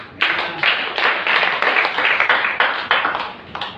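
A church congregation claps for Jesus in a steady, rhythmic beat, with about a dozen sharp, even strokes close by and no talking.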